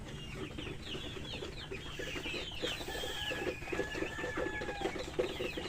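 Egg-laying hens crowded in their coop give a continuous overlapping chorus of clucks and squawks, busy and moderately close, with no voices.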